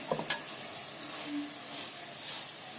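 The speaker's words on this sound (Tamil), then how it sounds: "நம்ம அரைச்சி வச்ச அந்த மசாலாவை போட்டுடலாம், பிரியாணி மசாலாவை. இதையும் நல்லா ஃப்ரை பண்ணிக்கலாம்" Ground biryani masala paste fries in a pot with a soft, steady sizzle, opening with a couple of quick clicks from stirring, then settling into a quiet, even hiss.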